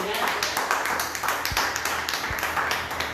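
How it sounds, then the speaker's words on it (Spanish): Church congregation clapping during a service, a dense steady patter of many hands filling the whole clip, with voices underneath. "Denle palmas a Cristo"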